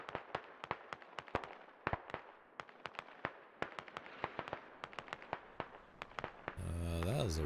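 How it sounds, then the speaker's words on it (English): Smoke artillery rounds landing in the Squad military shooter, heard as a dense run of sharp cracking pops at irregular intervals, some near and loud, others fainter, with a steady rising hum swelling in over the final second. "And there comes the second round of smoke artillery."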